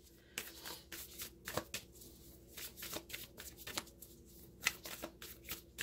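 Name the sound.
shuffling Whispers of Love oracle cards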